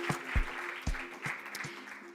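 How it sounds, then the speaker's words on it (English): Sparse, scattered claps from a conference audience at the opening of an African debt and development conference, a few separate hand claps over a quiet hall with a faint steady hum. "Let's just give them a round of applause."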